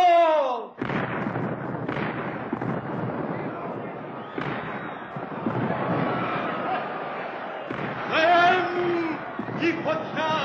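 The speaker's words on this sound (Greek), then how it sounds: "Θα βροντίξουν τώρα τα κανόνια μας." Booming cannon fire in a sound and light show at the medieval walls of Rhodes, with several dull blasts rolling over a staged battle soundtrack while dramatic voices shout throughout.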